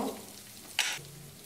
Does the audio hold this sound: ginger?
yes